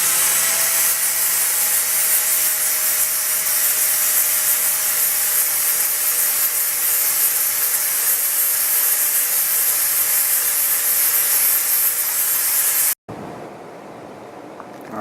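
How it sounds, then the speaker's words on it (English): Metal piston pins are polished down with a steady, loud, broadband abrasive hiss that runs unbroken for about thirteen seconds, then stops abruptly and drops to low background noise. "I think I might just polish these down a little bit"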